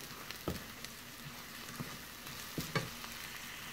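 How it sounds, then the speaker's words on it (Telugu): Garlic paste frying in a pan over medium flame gives a faint, steady sizzle, with a few louder spoon knocks and scrapes as it is stirred. "కాసింత వెల్లుల్లిపాయ పేస్ట్ వేసుకొని అడుగంటకుండా కలుపుతూ ఉండాలి."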